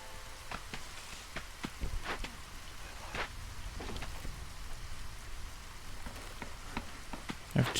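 Drizzling rain in the video game Against the Storm makes a soft, faint patter, with scattered distinct drops ticking irregularly and no voices.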